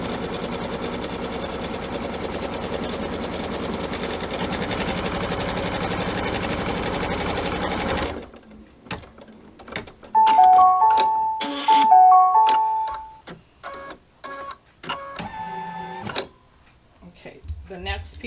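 A sewing machine stitches across the top and down the side edge of a patriotic pinwheel quilt block for a pillow, the rapid motor whir starting and stopping in short bursts, close and fairly loud, with a person talking between runs.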